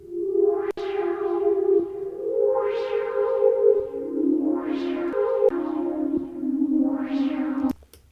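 A sustained synth pad built in the Serum synthesizer drones through slow chord changes, with filter sweeps that brighten and fade again in a smooth repeating swell before it cuts off.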